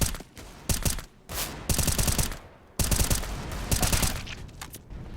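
Automatic rifle fire in the video game Counter-Strike: Global Offensive during an ESL Pro League match, heard as several loud, rapid bursts with short pauses between them, close and dominant.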